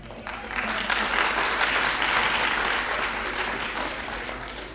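An audience at a college Basant Panchami celebration applauds, a steady dense roar of clapping sustained for several seconds without a break.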